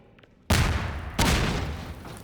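Two sudden, loud grenade blasts in the video game Prospekt, each a sharp broadband boom that rolls into a long, dense rumble of gunfire and debris, with no voices over it.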